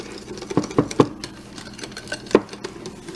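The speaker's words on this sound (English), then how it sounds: "Okay, and stir that in." Red velvet cream cheese brownie batter stirred in a bowl, with a few soft irregular taps and scrapes of the utensil against the side, moderately close and fairly quiet, no talking.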